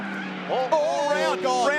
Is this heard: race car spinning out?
yes